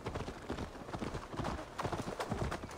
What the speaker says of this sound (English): The horse doesn't like the steps.